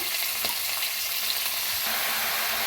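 Chicken with onion sizzling in hot oil inside a pressure cooker for egg-and-chicken curry, a steady, close crackling fry with faint stirring, no voices.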